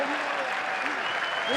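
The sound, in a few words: applause at Barbera stadium, Palermo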